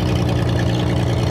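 A 1962 AMC Rambler, revived after decades buried, runs its engine steadily as the car starts rolling with a jumpy clutch, a loud continuous low rumble with no talk.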